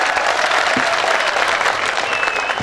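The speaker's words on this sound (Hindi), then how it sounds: "आपको इसके लिए आपको विशेष तालियां बजानी चाहिए" Sustained applause from a large audience at a Hindi comedy poetry recital during the Jalore Mahotsav kavi sammelan, a dense steady clapping that holds at full strength throughout, with faint crowd murmur beneath.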